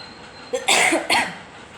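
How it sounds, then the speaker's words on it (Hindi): Two harsh coughs in quick succession from one person close by, each a short broadband burst, with quiet room tone around them. "शुरुआत में ही खांसी हो गई।"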